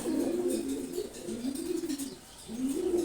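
Male pigeons coo in close, repeated rolling phrases, about three swelling calls in a row with no voices.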